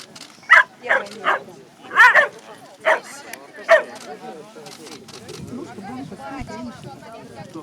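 Whippets bark in a run of sharp, loud yips and bow-wows at a coursing award ceremony, several close barks in quick succession followed by people talking and murmuring nearby.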